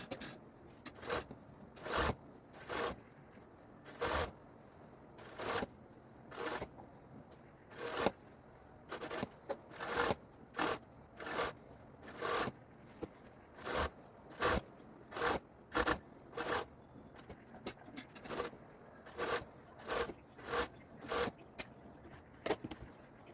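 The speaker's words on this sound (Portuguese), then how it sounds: "Vou lá na overlock fazer esse acabamento e eu vou iniciar pela parte de trás." An overlock sewing machine finishes a fabric seam in short bursts of rapid stitching, quiet and close, with brief pauses between runs.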